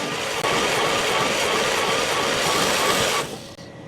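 The engine of a 1939 Buick mine car, saved from a junkyard after 66 years, runs with a loud, rough, steady roar close by, then drops away abruptly near the end.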